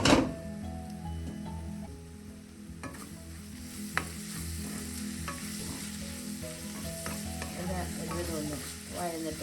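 Chicken liver sizzles steadily in a pan while a spoon stirs it, giving soft scraping and occasional light clinks over the constant frying hiss, close and moderately quiet with no talk.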